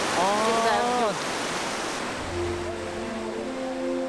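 A Siberian waterfall roars as a constant broad rush of water, steady and loud, while voices and short tonal calls sound over it early and again near the end.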